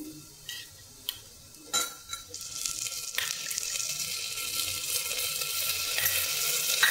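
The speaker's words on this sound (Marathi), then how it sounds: "आता 1-2 मिनिटं आपण परतून घेऊ। कांदा आपला छानपैकी मऊ झालेला आहे" Onions with ginger-garlic paste fry in a pan, starting with a few sharp clinks and taps, then a hiss that builds steadily and stays soft under no talk.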